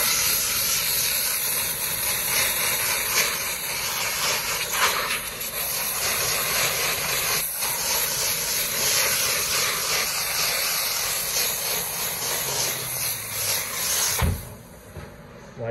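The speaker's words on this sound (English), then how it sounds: "we'll get out the steamer and we'll work on cleaning this one out" A steam cleaner blasts carbon buildup off a Nieco commercial broiler with a loud, continuous, close hiss over an engine-like drone for about fourteen seconds, then cuts off abruptly.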